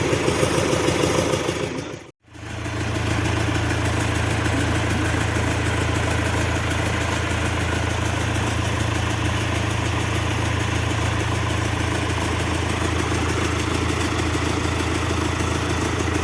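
A tractor engine idles steadily with a low, even chug; after a brief gap at the start it runs on continuously, close by.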